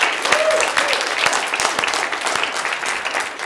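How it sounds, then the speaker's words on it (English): A church congregation applauds after a Sunday morning musical performance, a busy patter of individual claps, fairly close and steady, with a faint voice briefly showing early on. "Let's give Matt a big round of applause for playing this morning."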